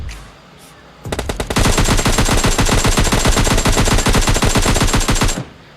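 Automatic gunfire in a shooter video game, a loud, rapid, sustained burst of shots lasting over four seconds after a quieter start, then cutting off abruptly.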